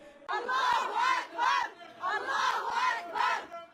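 A crowd inside a mosque compound chants slogans in loud, rising and falling waves of many voices shouting in unison, heard at a moderate distance with short pauses between the bursts.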